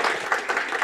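Audience applause at the close of a statistical mechanics lecture, a steady wash of many hands clapping for a brief moment with no talking over it.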